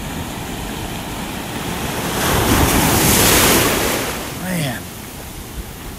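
Big ocean waves pound the beach at North Naples, Florida, a loud steady roar with wind buffeting the microphone that swells into a crashing surge midway, and someone briefly speaks near the end.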